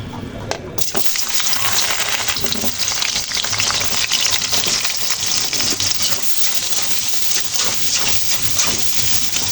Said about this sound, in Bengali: তেল যোগ করে নেব কেটে রাখা সবজিগুলো হালকা করে ভেজে দেব